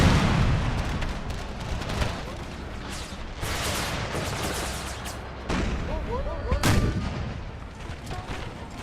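Heavy booming cannon fire in the video game Empire: Total War with the Brothers vs. Brothers mod, overlapping blasts and crackling gunfire, dense and loud throughout, a chaotic battlefield barrage.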